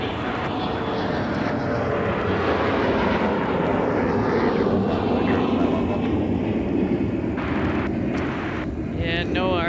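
A jet airliner takes off from runway 30 left at MSP airport, a loud, steady broadband roar that holds strong from start to finish while a voice talks over it.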